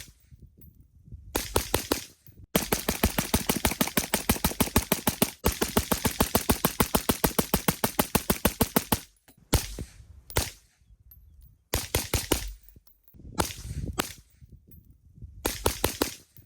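A firearm fitted with a HuxWrx Flow Range 36 Ti silencer fires suppressed shots, heard as rapid bursts of sharp, evenly spaced cracks, then scattered shorter bursts and single shots with brief pauses between.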